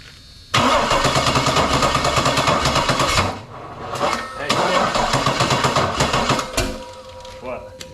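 A homemade engine on a test stand catches and roars loudly up close, stumbles and dips briefly, picks up again, then cuts out, leaving quieter mechanical ticks.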